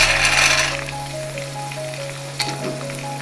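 Peanuts and curry leaves frying in hot oil for a savory flattened-rice snack, a steady close sizzle and crackle that is loud at first and then settles, with a faint clatter near the end.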